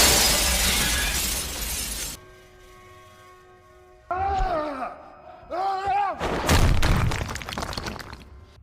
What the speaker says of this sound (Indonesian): Shikon terlempar melalui dinding kaca